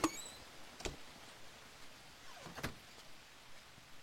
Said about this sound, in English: Why am I hearing these squeaky door hinge?